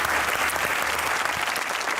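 Studio audience at an interview show bursting into dense, loud applause that carries on steadily for the whole two seconds.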